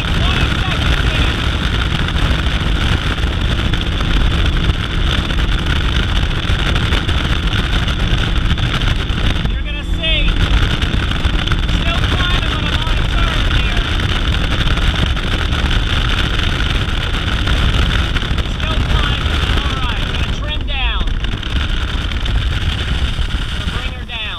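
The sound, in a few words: Falcon 205 bass boat with 250 SHO outboard accelerating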